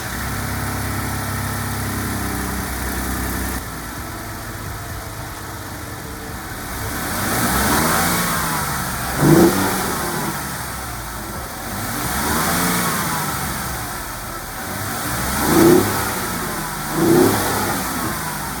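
A 2015-2017 Ford F-150 fitted with an AFE Magnum Force Stage 2 cold air intake with dry filter idles, then revs up several times in swelling pulls with a few sharper blips, heard close and clear with no talk.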